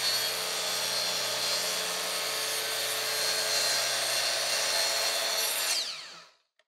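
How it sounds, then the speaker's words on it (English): A Kreg Adaptive Cutting System track saw rips a full plywood sheet, whining loud and steady for about six seconds before the motor spins down into silence. "now I can make a wide rip in something like a sheet of plywood with the same accuracy"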